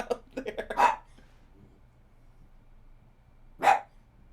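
A pet dog barks in a quick run of short yaps, then falls silent and gives one last louder bark a few seconds later, close by inside a quiet room.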